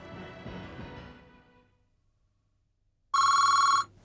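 A telephone bell rings once, loud and shrill, after a fading rumble and a brief silence.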